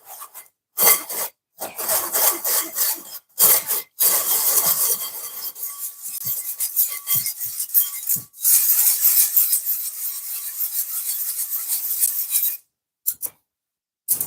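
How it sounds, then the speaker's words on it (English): A whisk pushes batch-cooked food through a sieve, giving a continuous scraping, rasping rub that comes in bursts with short pauses, close and fairly loud, with no talk over it. "And I'm going to sieve this. I want him sieve out. So I'm going to use a whisk."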